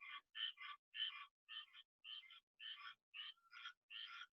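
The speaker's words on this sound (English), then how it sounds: "it's like some really, really loud frogs or something" Very loud frogs croaking in a steady series of about ten rasping, doubled calls separated by brief silences, with no other sound around them.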